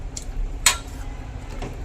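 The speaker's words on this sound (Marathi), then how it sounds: "आता याला छान हलवून घेऊ आपण" A spoon stirs green pea vegetable curry in a pot, giving a few quiet, scattered clinks and scrapes against the metal.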